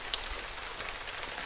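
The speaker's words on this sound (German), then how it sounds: "Regen." Rain in the survival video game Road to Eden falls as a steady, soft patter on surfaces, a continuous hiss with scattered individual drops. No one speaks.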